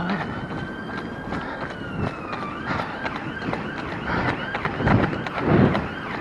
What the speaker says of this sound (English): there always seems to be an ambulance going past